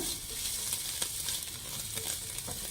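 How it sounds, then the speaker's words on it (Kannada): Onions frying in a pan for egg noodles give off a steady, close hiss with faint crackles and a few soft stirring taps, and no one speaks. "ಈರುಳ್ಳಿ ಫ್ರೈ ಮಾಡ್ಕೊಬೇಕೀಗ. ಚೆನ್ನಾಗಿ ಫ್ರೈ ಮಾಡಿ ಈರುಳ್ಳಿನ."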